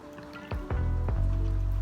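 Small watery dips and drips as a cotton pad is dabbed into water, a few soft splashes in quick succession followed by a low, steady trickling.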